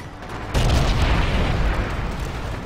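Heavy bombardment explosions pound a flag hangar in the Forgotten Hope 2 battle game at Sidi Rezegh, a loud booming onset giving way to a sustained rumbling roar of blasts.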